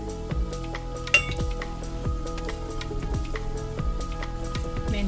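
Mustard seeds, cumin and urad dal crackle and pop in hot oil, with sharp sizzling spatters and a few metallic clinks of a spoon against the pan, heard close up with no talking.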